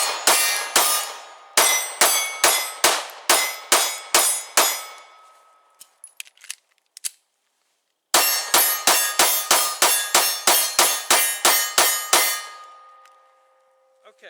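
Springfield Hellcat pistol shots at an outdoor range, two fast strings of sharp, loud reports in quick succession separated by a pause with a few faint clicks and handling noises.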